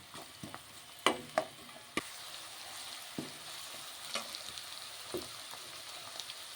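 Chopped onions and green chillies fry in a pan with a steady crackling sizzle, punctuated by sharp clinks and scrapes of stirring at irregular intervals.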